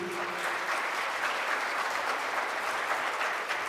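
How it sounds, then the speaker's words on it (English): An audience at a school winter concert applauds steadily, a dense even wash of clapping from a full room, heard from a little distance. "let's have a round of applause for those drummers in the beginning"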